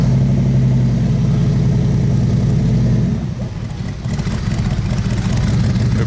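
An American car engine in a Monaco street, a steady low rumble with mild revving throughout, briefly easing around the middle before building again; close and fairly loud, with no talk.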